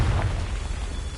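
A Confringo fire spell explodes in the video game Hogwarts Legacy, a short, loud, deep boom that rumbles and fades over about a second.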